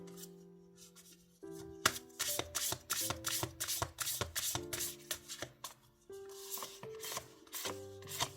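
Lenormand cards shuffled by hand for a reading, a fast run of crisp riffling slaps and rubs repeating close up with no voice, over a soft tonal backing of sustained notes.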